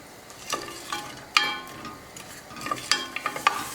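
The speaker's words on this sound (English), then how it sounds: "And saute for approximately 3 minutes." A small piece of butter sautéing in a pot for green pea soup, with a faint sizzle under scattered stirring scrapes and light clinks spread through the moment, no one talking.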